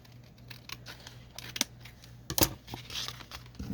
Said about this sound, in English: And then we'll trim this top off.